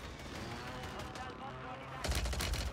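Gunfire in the video game Warzone 3 breaks out suddenly as a loud, rapid burst of shots after a stretch of quieter, muffled battle noise.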